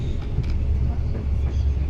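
Romanian passenger train running along the tracks, a continuous low rumble and rattle from inside the carriage, with faint voices in the background.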